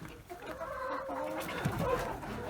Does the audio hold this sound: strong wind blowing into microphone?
no